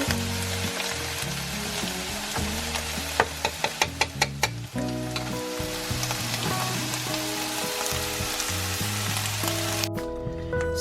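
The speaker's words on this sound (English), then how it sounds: "The ground beef is cooking and browning here, and the sauce is doing very well also." Ground beef browns in a pan with tomato and pumpkin sauce, giving a steady close sizzle and crackle, with a quick series of utensil taps against the pan partway through and no talking.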